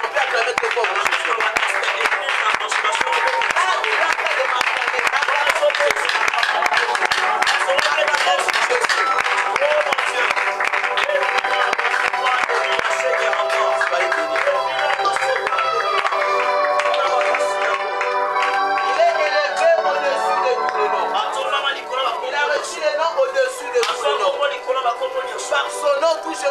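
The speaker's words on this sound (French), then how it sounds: "on peut acclamer très fort pour Jésus" A church congregation claps and cheers loudly for Jesus in steady, dense applause that runs throughout, mixed with singing voices and music.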